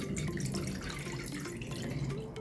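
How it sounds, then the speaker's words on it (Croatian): Water is poured into a pan or pot, 500 ml for cooking a traditional bread dish, a soft continuous trickle and splash heard at low level with no talking. "stavljamo 500 ml vode"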